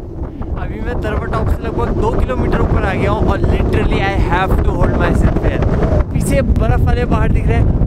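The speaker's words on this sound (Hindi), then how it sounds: "चल रही है बहुत ज़्यादा, हवा चल रही है" Strong, steady wind buffets a microphone high on a mountain climb between the Gangotri and Yamuna valleys, a loud continuous roar with gusty surges while someone speaks over it throughout.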